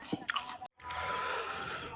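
Close chewing of a mouthful of hot dal and rice, a few soft wet bites followed by muffled mastication, fairly quiet.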